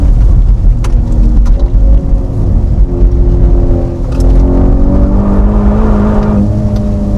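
The Aston Martin Formula 1 safety car engine drones and revs steadily under hard driving, loud and close, with the pitch sweeping up and down through gear changes, some sharp clicks on top.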